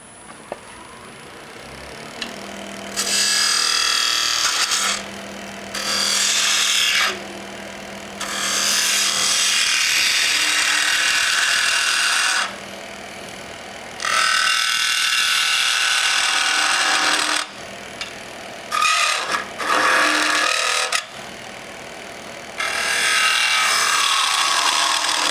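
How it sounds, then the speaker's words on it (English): End grain wood box turning on a lathe with a spindle gouge: repeated bursts of cutting and scraping noise, several seconds each, separated by short pauses, loud and close, with a low motor hum under it and no talk. "all we're going to do is just clean that up. And I like to like to use a spindle gouge."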